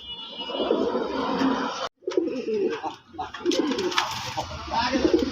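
A pair of desi Bombay pigeons coo in deep, repeated, throaty phrases close by, interrupted by a brief silence, with a voice talking faintly in the background.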